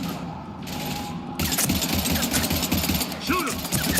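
Rapid, sustained automatic gunfire in Mass Effect 3, a dense rattling stream that grows louder partway through, with voices calling out over the shooting.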